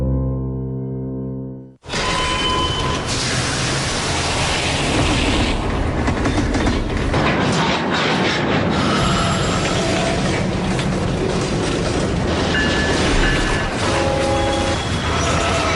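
Freight train cars roll past on the rails with a loud, continuous rumble and rhythmic clatter of wheels over joints, following a brief musical note at the start; no voices.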